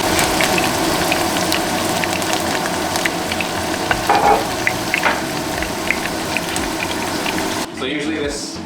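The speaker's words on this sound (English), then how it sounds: "And into the fryer." Okoy, Filipino shrimp fritters, crackle and sizzle steadily as they deep fry in a fryer, a dense bubbling hiss that runs the whole time with a voice speaking over it.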